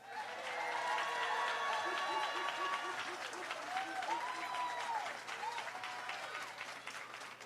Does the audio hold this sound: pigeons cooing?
no